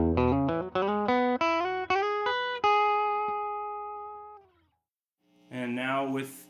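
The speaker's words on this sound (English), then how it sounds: "So here is my, my dry sound." A dry electric guitar through a tweed amp with no reverb picks a descending run of notes that decays to silence, followed by a brief spoken voice.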